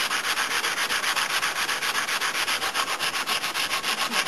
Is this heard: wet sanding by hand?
yes